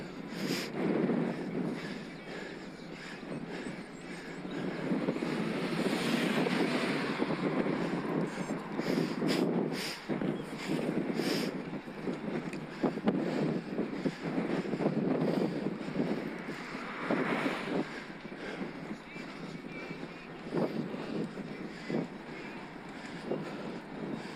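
Continuous headwind buffets the microphone while cycling on an e-bike, a rough, gusting roar that swells and fades, steady throughout with occasional sharper bumps.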